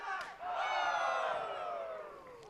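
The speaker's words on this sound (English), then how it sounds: "And listen to the crowd." A wrestling crowd roars and cheers loudly in a sustained, swelling wave during a championship match, with shouts rising over the din before easing slightly.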